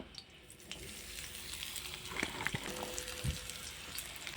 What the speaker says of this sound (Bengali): ঠিক একইভাবে আমি কাঁকরোলগুলোকেও ভেজে নেব